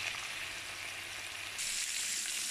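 Garlic browning in oil in a pan for a rabbit spaghetti sauce, a steady close hiss of sizzling that grows a little louder and brighter partway through.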